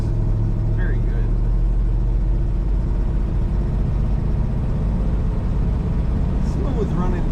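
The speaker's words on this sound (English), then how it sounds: "Smooth running Thunderbird." A red 1955 Ford Thunderbird's engine runs with a steady low rumble at idle, smooth and continuous, close by, with a faint brief chirp or squeak near the end.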